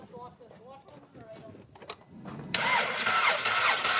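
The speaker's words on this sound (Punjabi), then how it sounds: "ਇੰਜਣ ਤਾਂ ਘੁੰਮਦਾ ਨਾ।" A 2013 Volkswagen Jetta that will not start cranks without catching, with a rough mid-pitched churning that builds up and continues at close range. Birdsong can be heard early on and voices talk in the background.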